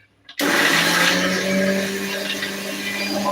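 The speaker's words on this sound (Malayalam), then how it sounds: "അത് മിക്സിയിലേക്ക് വെച്ച് ഒന്ന് അരച്ചെടുക്കാറുണ്ട് ഒന്ന് അരച്ചെടുക്കാം" A kitchen mixer grinder starts up and blends ingredients for green gram stir-fry, a loud, steady motor whir with a sharp onset that continues without pause.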